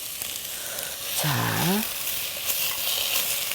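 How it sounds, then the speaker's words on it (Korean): Chopped radish stir-fries in a hot pan for Korean radish soup, giving a steady close sizzle throughout. A voice briefly speaks over it midway. "이렇게 볶아줘요."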